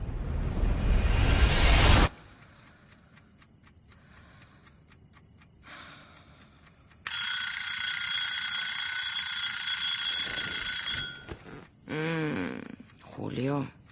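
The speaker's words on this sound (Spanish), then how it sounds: "¿Para qué has puesto el despertador?" An alarm clock rings at night in a bedroom, a steady electronic ringing that runs for several seconds at moderate loudness, preceded by a loud rush of noise and followed by brief breathy voice sounds.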